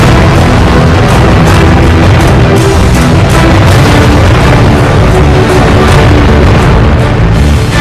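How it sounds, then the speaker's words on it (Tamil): A gas tanker truck carrying cooking gas explodes in South Africa, a loud, sustained roar of booming blast and rumbling fire noise filling the whole stretch with dense low-end energy and crackling bursts. "சமையல் எரிவாயு ஏற்றிச் சென்ற லாரி வெடித்துச் சிதறும் காட்சி வெளியாகி பரபரப்பை ஏற்படுத்தியது."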